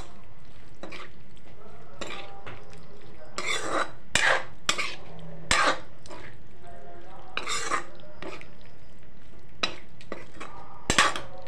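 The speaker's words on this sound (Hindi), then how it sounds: "इसके बाद इसको थोड़ा सा चला लेते हैं।" Spoon stirring wheat-flour pasta with masala in a metal pan, sharp scraping clinks in irregular bursts, close and fairly loud, with faint sizzling underneath and no talking.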